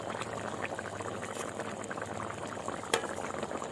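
Chicken korma gravy bubbles softly after broth is added, a quiet steady simmer with faint popping and one brief clink near the end.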